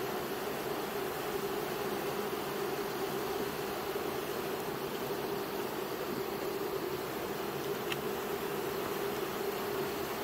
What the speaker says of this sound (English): So far these bees are really gentle.